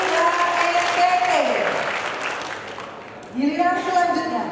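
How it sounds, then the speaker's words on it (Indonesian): A crowd applauds a Bali and NTT team at the national final of a legal awareness quiz competition, with a voice speaking over the start and again as the clapping dies down. "tepuk tangan untuk Bali dan NTT"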